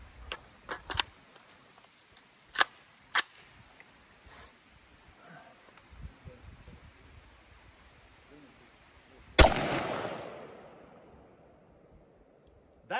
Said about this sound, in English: we're shooting it out of a Daniel Defense pistol